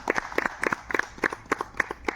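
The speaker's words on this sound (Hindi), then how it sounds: "इसलिए ये पुनः उनके लिए धन्यवाद स्वरूप जोरदार ताली बजाएं" An audience at a YouTubers meet-up in Jashpur claps in a brief, scattered burst, with distinct individual hand claps sounding fairly close and fairly quiet.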